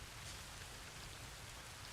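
Steady rainfall in the video game Satisfactory, a faint continuous hiss of falling rain with no breaks and no voices.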